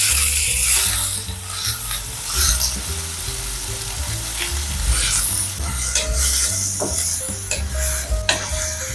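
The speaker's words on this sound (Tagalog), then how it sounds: "Painit lang tayo ng kawali, lagyan ng mantika at isangag lang natin ang ating hipon" Shrimp sautéing in hot oil in a frying pan, a steady loud sizzle with stirring scrapes and clinks of the pan throughout.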